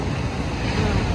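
Sea waves wash ashore at night on Puri beach, a continuous dense roar of surf mixed with wind buffeting the microphone, loud and unbroken.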